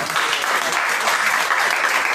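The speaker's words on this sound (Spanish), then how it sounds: "Un fuerte aplauso al Señor." Dense, loud applause from a church congregation during a Christmas service, a continuous wash of many clapping hands with some voices faintly underneath.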